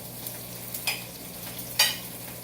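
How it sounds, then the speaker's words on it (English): Roasted Anaheim peppers go back into a pan with seared swordfish, giving a soft, steady frying hiss broken by a few brief clinks and scrapes of stirring. "Now we're going to take the peppers. We're going to throw them back in the pan."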